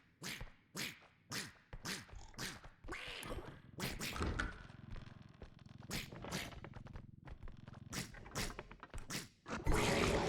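Ducks quack in the video game R.E.P.O., a long run of repeated loud quacks and thunking hits coming in irregular bursts, close and prominent throughout.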